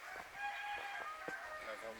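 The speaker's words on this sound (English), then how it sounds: "That's our chickens." Backyard chickens cluck and crow close by in short, repeated calls, with household voices talking over them.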